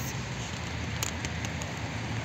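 Steady rain patters through an empty park on a wet day, an even, close hiss with a few faint drop clicks and no voices.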